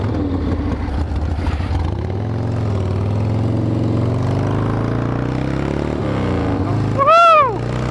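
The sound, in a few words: Harley-Davidson motorcycle engine kickstarted and running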